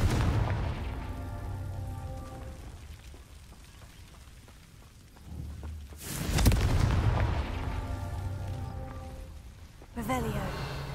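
Two booming Confringo spell blasts in Hogwarts Legacy erupt several seconds apart, each a loud, sharp burst that rolls into a rumbling tail over dense ambient game noise and music, with speech heard between them.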